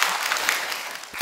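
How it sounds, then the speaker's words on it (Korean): A church congregation applauds during a Sunday service, a dense wash of clapping heard steadily throughout, with a sudden louder burst at the very end. "박수 이제 안 쳐도 괜찮아. 그만 쳐."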